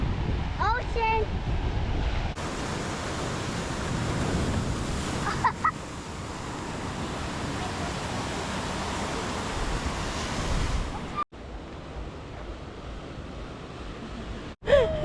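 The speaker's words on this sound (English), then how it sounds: "Ocean." Ocean surf rolls along a shore in Samoa, a continuous loud rush of breaking waves and wind buffeting the microphone, with a few brief voices near the start.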